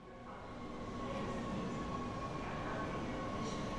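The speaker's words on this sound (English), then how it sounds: "The train all arrived on time, on a cool double-decker train that you get in Holland." Steady rumbling hum of a Dutch double-decker passenger train at a station, with faint rolling and mechanical whine, continuous and moderately distant, no talking.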